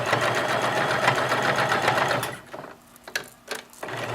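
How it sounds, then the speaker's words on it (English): Running steadily and loudly close by, a sewing machine stitches a seam around a curve, then stops abruptly, leaving a few soft clicks and bumps as the fabric is pivoted before stitching briefly resumes. "I'm sewing a craft seam at the 1 centimeter, the needle a centimeter away from the edge of the fabric"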